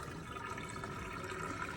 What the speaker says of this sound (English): I'm going to dump the hot water